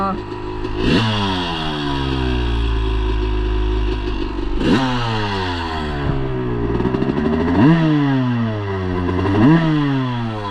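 A motorcycle engine drones loud and close while riding, rising and falling repeatedly through revs and gear changes, with wind buffeting and some clattering.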